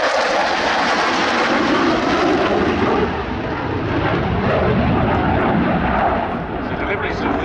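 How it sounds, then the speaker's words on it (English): A Belgian Air Force F-16 fighter jet in a flying display at the RIAT airshow, its engine a loud, continuous roar that swells and dips slightly as it passes, with a commentator talking over it. "the F-16's agility, one of the key factors that has made it among the greatest fighter aircraft of all time"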